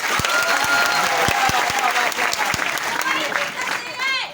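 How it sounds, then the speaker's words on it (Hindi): Audience applause at a Hindi-language training and recognition event, a dense wash of clapping filling most of the clip, with a voice speaking over it near the end. "आज थोड़ा सा एक बार ताली होना चाहिए"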